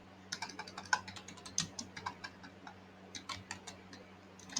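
Keys clack on a computer keyboard as text is typed, a quick irregular string of light, close clicks with brief pauses between bursts over a quiet room hum.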